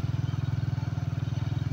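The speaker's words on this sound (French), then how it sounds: "je me balade dans la brousse en moto" Motorcycle ridden through the bush in Senegal, its engine chugging in a steady, fast pulsing rhythm, close and continuous throughout.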